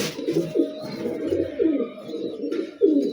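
A male green-necked pigeon coos close by in a repeated series of soft, throaty rolling calls over a quiet background.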